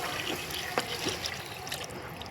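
Lentil cooking water being poured into a pot on a wood-fired stove, a soft, steady trickle and splash that is fairly faint and continuous, with no talk.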